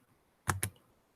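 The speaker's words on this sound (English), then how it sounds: "Let me type it up." Two quick computer keyboard key clicks in a row, close and crisp, against a quiet background with no talking.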